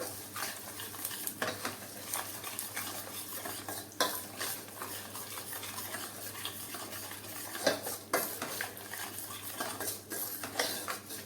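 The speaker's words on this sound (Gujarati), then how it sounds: "ભૂકો કરેલો ગુંદર એડ કરી દેશું ગુંદરને આપણે મિક્સ થવા દેશું" A spoon or spatula scrapes and stirs crushed edible gum through flour in a pan over a low gas flame while making sukhadi, a close, continuous rhythmic scraping with sharper clinks of metal against the pan and a faint sizzle.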